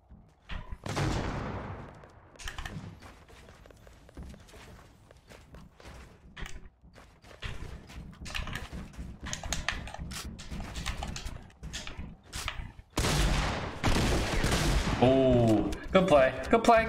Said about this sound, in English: Tell me what you think about this new shotgun.